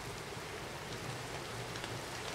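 Rain pelts steadily against glass as a dense, even hiss of drops, soft and continuous, with no voices over it.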